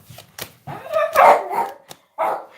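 A dog indoors gives a few short, loud barks and yelps in quick bursts, close by, with brief pauses between them.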